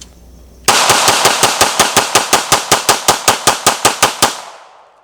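A Glock 19X pistol fires 20 frangible 9mm rounds in rapid succession, a loud, evenly spaced string of sharp shots ending with a fading echo.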